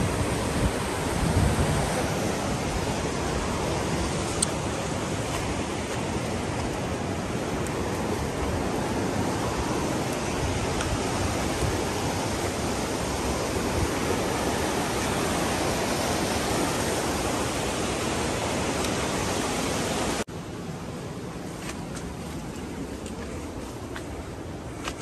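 A river stream rushes beside a forest path, a steady broadband wash of flowing water heard close and constant, dropping slightly in level near the end.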